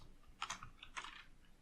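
Quiet typing on a computer keyboard comes in two short bursts of rapid keystrokes, faint and close, with no voices.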